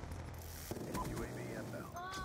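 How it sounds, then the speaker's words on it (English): Death Machine minigun in Black Ops 2 multiplayer, spinning up and firing in a rapid stream among game announcer callouts, voices and other gunfire. "Friendly death machine spinning up."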